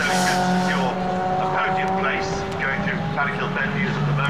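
Race cars of the Nippon Challenge at Brands Hatch scream past through Clark Curve in a close pack, engines loud and overlapping, pitch sweeping as they pass, with a commentator talking over the noise.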